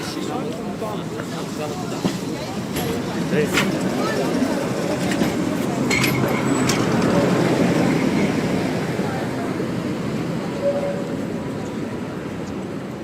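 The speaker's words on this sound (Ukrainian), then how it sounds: "Львівський трамвайчик їде повз нас." A Lviv tram rumbles past on a cold day in the old-town Rynok Square, its rolling rail noise swelling to a peak in the middle and fading, beneath crowd murmur and footsteps.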